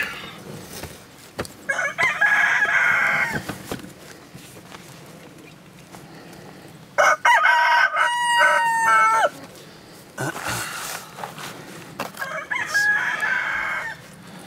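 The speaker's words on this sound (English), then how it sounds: "everybody say hi to my leghorn rooster, who is saying hello" A Leghorn rooster crows loudly and close by, three long crows separated by pauses, with no talk over it.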